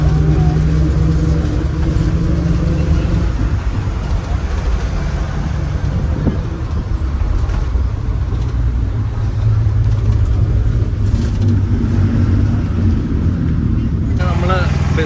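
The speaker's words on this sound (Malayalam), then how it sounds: "അങ്ങനെ ഞങ്ങൾ KSRTC സൂപ്പർ ഫാസ്റ്റ് എറണാകുളം ബസ്സാണ്." A KSRTC Super Fast bus bound for Ernakulam rumbles along steadily, with a continuous low engine drone and road noise plus some wind buffeting throughout, heard from inside the bus.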